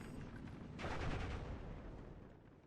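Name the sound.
anti-tank gun firing in video game Steel Division: Normandy 44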